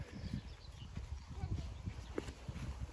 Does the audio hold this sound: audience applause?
no